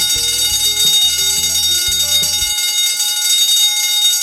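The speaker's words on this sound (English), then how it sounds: "It's the fire alarm." A school fire alarm rings loudly and without a break in a classroom. A steady clanging bell-like wash runs throughout, and a choppy electronic tone pattern sits under it for the first half.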